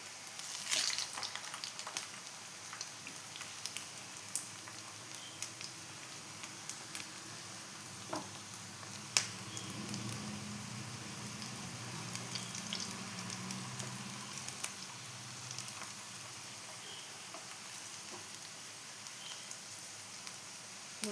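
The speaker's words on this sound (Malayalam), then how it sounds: "നല്ലോണം മൊരിയിച്ചിട്ടെടുക്കാം." Appam snacks frying until crisp in coconut oil in a home kitchen, giving a steady, close, even sizzle with a few small pops and crackles throughout.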